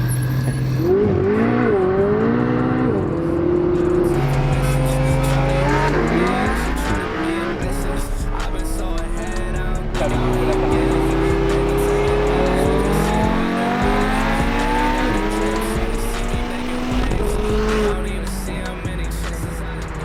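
A Ferrari launches from a standing start in a race against a Lamborghini Huracán. Its engine screams loudly and continuously, climbing in pitch through several rising revs and gear changes, with no voices.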